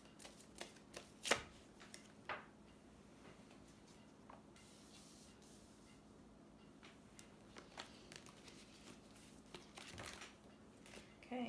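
Tarot cards are shuffled by hand in a faint, scattered series of soft riffles and taps, with a few sharper snaps, in a quiet room.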